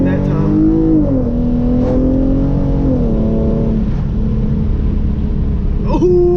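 A Hyundai Genesis Coupe 3.8 engine revs hard and steadily at close range as the car launches with wheelspin, its pitch rising and dipping, with a brief higher squeal near the end.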